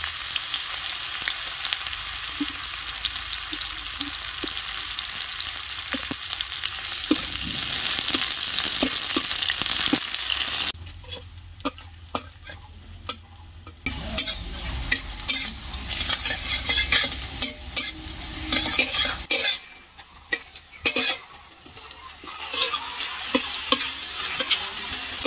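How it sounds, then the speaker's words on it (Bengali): Bitter gourd (uchhe) frying in oil in a pan, a continuous loud sizzle with scraping stirs of a spatula and occasional clinks against the metal pan, the sizzle dropping briefly before resuming. "তো এবার উচ্ছেগুলো একটু ভেজে নেব।"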